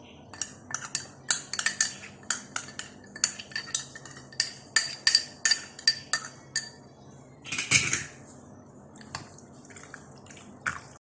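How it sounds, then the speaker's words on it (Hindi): Spoon stirring yogurt and ginger-garlic paste marinade into goat liver pieces in a bowl, a steady run of close, wet clinks and scrapes against the bowl with short pauses, heard alone without voices. "ये दही वाला तमाम मिक्सचर इसके अंदर डाल देंगे और इसको मैं अब अच्छे से मिक्स कर लेती हूँ"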